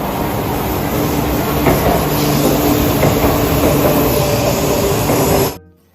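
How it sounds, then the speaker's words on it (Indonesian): A toy high-speed train runs with a continuous loud mechanical whir and faint rattling clicks, steady for several seconds before cutting off abruptly near the end. "ini mainan kereta api cepat"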